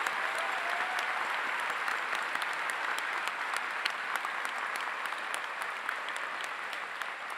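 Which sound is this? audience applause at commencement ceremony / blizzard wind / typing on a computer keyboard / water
audience applause at commencement ceremony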